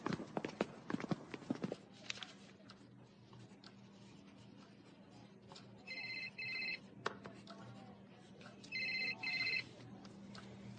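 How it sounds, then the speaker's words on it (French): Telephone ringing in a French indoor scene, two short electronic double-trill bursts a few seconds apart, faint and moderately distant, following scattered clatter and knocks at the start. "C'est le téléphone de qui?"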